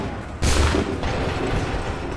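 A massed musket volley rings out in a Battle of Lexington scene in Assassin's Creed III: one sharp, loud boom that fades into a ragged, lingering rumble of smoke-filled echo.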